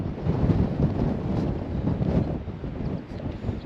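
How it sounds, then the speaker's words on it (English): Loud, continuous wind buffeting the microphone, a rough low rumble that roars and gusts throughout with no other clear sounds. "I do apologise about the wind, it is coming straight towards me."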